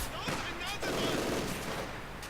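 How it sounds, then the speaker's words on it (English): Light machine guns firing in a WWII real-time strategy game battle, a dense continuous rattle of gunfire lasting throughout, moderately loud amid other battle noise. "And finally some light machine guns, about bleeding damn time."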